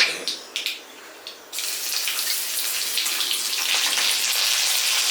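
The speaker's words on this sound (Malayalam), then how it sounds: "ഇനി നമുക്ക് ഇതിനകത്തോട്ട് നമുക്ക് ആവശ്യത്തിനുള്ള കടുക് ഇട്ട് കൊടുക്കാം." White mustard seeds hit hot oil for a Kerala-style fish curry, starting with a few sharp crackles and then breaking into a loud, continuous hissing splutter that holds steady to the end.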